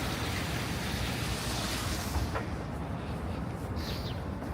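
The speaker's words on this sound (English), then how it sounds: "I can hear the water. It's like an underground river down there." Water flows below a Manhattan street like an underground river, a continuous broadband rush heard from the sidewalk, with a faint passing sound near the end.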